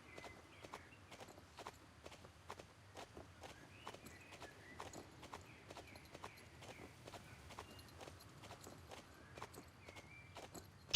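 A two-year-old Hanoverian stallion trots over ground poles at a show, with steady, evenly spaced hoof clops sounding at moderate distance over a low background hum.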